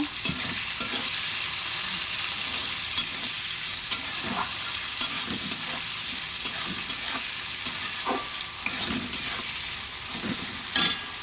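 Capsicum with a little salt sizzles steadily in a pan while a utensil stirs and scrapes it in regular, sharp knocks every second or so, fairly close and loud.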